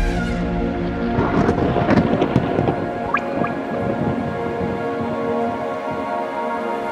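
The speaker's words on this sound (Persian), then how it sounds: "ناگهان ابرها در هم تنید و باران شدیدی آغاز شد." Heavy rain bursts into a sudden downpour as a sound effect, with a dense patter of drops peaking early, then settling into a steady low wash with a rumbling undertone and no voices.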